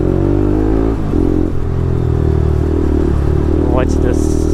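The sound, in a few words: Yamaha R1M motorcycle with Akrapovic exhaust revving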